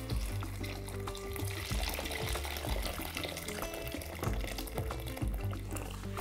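One litre of water being poured into a pot: a steady, close splashing stream with a hollow gurgle that runs continuously from start to finish.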